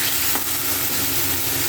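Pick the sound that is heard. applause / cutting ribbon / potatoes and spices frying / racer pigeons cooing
potatoes and spices frying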